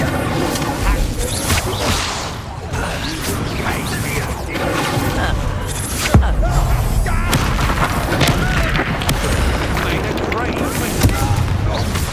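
The Incendio fire spell in Hogwarts Legacy on PS5 bursts with loud booming whooshes and crackling blasts, layered with game music and effects that run continuously throughout.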